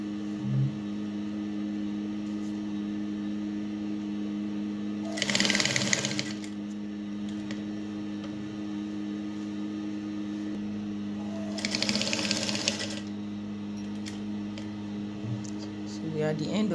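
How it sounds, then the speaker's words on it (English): A sewing machine stitches across gathered fabric in two short close bursts of fast whirring, with a steady electrical hum running throughout and quiet pauses between the runs. "See the way it's been sewn, so on that gathered part."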